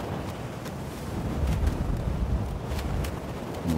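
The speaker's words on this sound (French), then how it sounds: "On entend le vent, c'est magnifique." Wind in the Sons of the Forest video game gusts in a steady, broad rush with a swelling middle, as if on an island hilltop overlooking a rough ocean, no voices.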